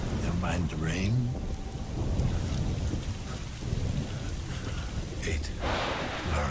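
Steady rain with rolling thunder in the video game Observer: System Redux, a continuous wash of downpour under low rumbles that swell and fade, with a few brief sharper tones breaking through.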